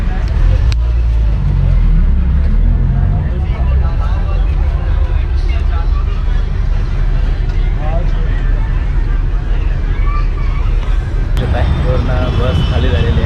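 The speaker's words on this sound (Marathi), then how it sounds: "ट्रॅफिक आहे, पाठीमागे पण फुल ट्रॅफिक आहे." Heavy road traffic rumbles around a crowded Mumbai bus stuck in a jam on the way to Powai, a constant low engine drone with occasional sharp knocks and people talking over it.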